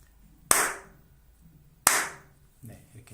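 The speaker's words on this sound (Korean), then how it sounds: "박수를 한번 쳐보겠습니다" Two sharp, loud hand claps about a second and a half apart, each with a short ringing tail in a small room, followed by fainter tapping sounds.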